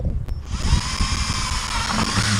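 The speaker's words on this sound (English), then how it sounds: "and drill a hole." A power drill bores a hole through the side of a plastic bucket laid on its side, a steady loud whirring grind that runs continuously from start to finish after a brief moment of quiet.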